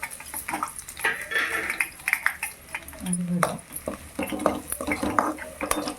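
Spice powder fried in oil in a pan for stuffed bitter gourd curry: a spoon clinks and scrapes against the pan in quick, uneven strokes while someone talks over it.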